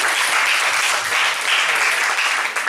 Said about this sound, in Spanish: Un aplauso para Pepe, por favor.